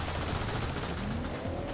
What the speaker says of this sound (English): They all start firing into the air.